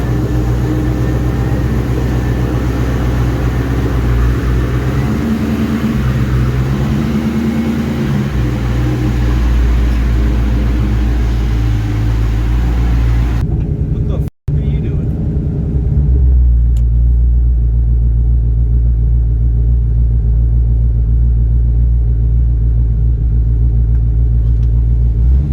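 A Ford Mustang fitted with a Mishimoto radiator idles at a stoplight, giving a steady, loud low engine rumble that runs throughout, with a brief cut partway and no talk.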